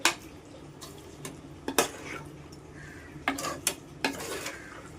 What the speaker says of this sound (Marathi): व्यवस्थित मिक्स करून